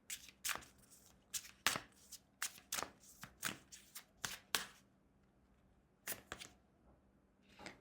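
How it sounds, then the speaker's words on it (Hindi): Tarot cards are shuffled and pulled in quick bursts of crisp, papery riffles and slaps, heard up close with short pauses between flurries and no voice. "Let me pull out more cards for you."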